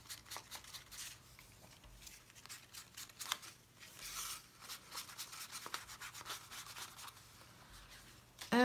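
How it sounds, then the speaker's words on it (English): Close, soft snipping and rustling as scissors cut through paper, a series of quick crisp strokes with light handling noise and no talking. "So this one is done with scissors."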